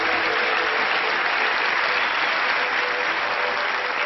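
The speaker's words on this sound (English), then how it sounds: "a nice round of applause" Sustained applause from an audience fills the whole stretch, dense and steady clapping with no pauses.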